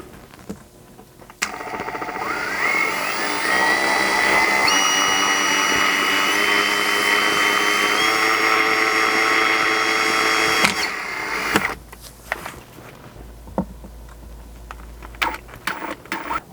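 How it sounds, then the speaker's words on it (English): A power drill whines at steady high speed as it bores through the bottom plastic layer of a Ford Maverick armrest panel, running continuously for about nine seconds and then stopping, followed by quieter handling clatter. "only drilling through this bottom layer of plastic"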